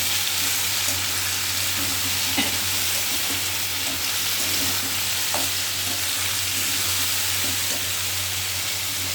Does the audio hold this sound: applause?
no